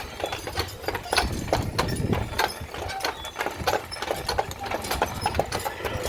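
Horse hooves clip-clop in a close, steady rhythm as a single horse pulls a carriage on Mackinac Island, with faint rumbling of wheels beneath.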